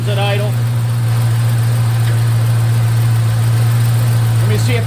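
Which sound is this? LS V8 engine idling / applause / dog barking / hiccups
LS V8 engine idling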